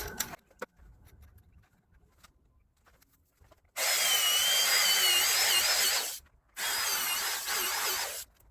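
A power drill drives 8-inch carriage bolts through 6-inch timbers for a retaining wall, sounding in two loud, close, grinding bursts of a few seconds each, separated by a short pause and preceded by quiet handling sounds.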